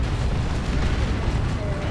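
Heavy plasma cannon shots from Dawn of War 2, in a Space Marines versus Chaos Space Marines match, landing as a continuous rumbling barrage of deep booms and blasts that fill the moment.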